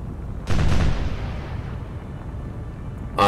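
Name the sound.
ship guns firing in the video game War on the Sea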